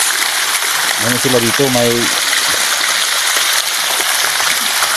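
Water rushes steadily in a resort fountain lit with changing colored lights, a constant broadband wash running throughout, with people talking briefly over it.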